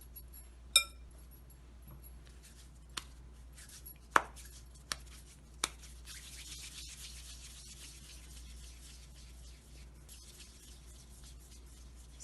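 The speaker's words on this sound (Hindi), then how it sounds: "देखिए इस तरह से काट लेंगे।" Dough for samosa sheets being cut into pieces on a hard surface, a few sharp isolated knife taps spaced out over a quiet background, close and faint, without speech.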